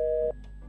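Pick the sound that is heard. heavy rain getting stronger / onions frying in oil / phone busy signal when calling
phone busy signal when calling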